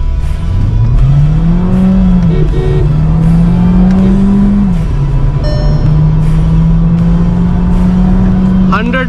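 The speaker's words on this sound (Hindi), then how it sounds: "तो अब करेंगे स्पोर्ट्स मोड में 0 से 100।" A Volkswagen Virtus accelerates hard from 0 to 100 in sport mode, its engine droning loudly from inside the cabin with rising pitch, brief dips at gear changes, and a voice talking over it.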